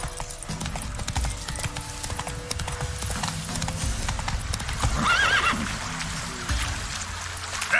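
Hooves clip-clop rapidly as a horse gallops in The Witcher 3 video game, steady and close, with a brief neigh partway through and faint trickling water in the background.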